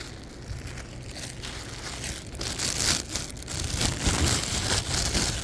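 A plastic bag crinkles and rustles up close while dog waste is picked up outdoors during a walk with a Kangal dog, an irregular crackling that grows louder toward the end.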